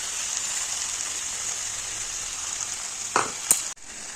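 Cauliflower stalks and vegetables fry with a steady soft sizzle in a pan, ending with a couple of brief stirring scrapes; quiet and close, no voices.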